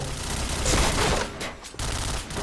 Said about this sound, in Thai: ยิงครับ ยิงยิงยิงยิงนี่ครับผม